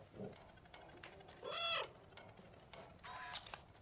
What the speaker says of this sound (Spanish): Se enfada porque me ha maullado.